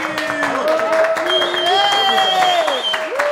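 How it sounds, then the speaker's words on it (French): A studio audience on a cooking show applauds and cheers to welcome a guest, with steady clapping under excited voices and whoops, sustained throughout. "Et on applaudit Camélia, s'il vous plaît, un maximum de bruit"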